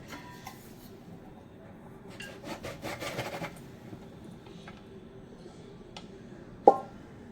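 A rolling pin works methi thepla dough on a board in soft, rubbing strokes, with a short burst of faster rolling midway and a single sharp knock near the end.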